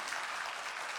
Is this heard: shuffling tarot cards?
no